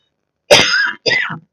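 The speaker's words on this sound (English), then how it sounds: "Oh, I'm coughing." Two harsh coughs, close and loud, one after the other with a brief gap, and no talking.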